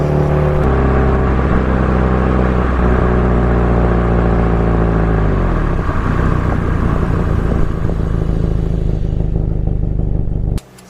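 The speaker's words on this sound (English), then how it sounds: "So what I do along this bit here is go up through the gears again." A Subaru Impreza STi S204 accelerates hard up through the gears, with a loud, steady engine roar heard from inside the car, a gear change partway through and no talking.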